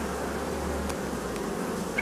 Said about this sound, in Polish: Nie zostaną te pszczoły bez niczego.